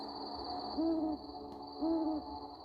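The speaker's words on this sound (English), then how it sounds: "Our sacred night bird is calling us." A night owl gives two clear hoots about a second apart, each a short wavering call standing out over a steady high hum and faint background noise.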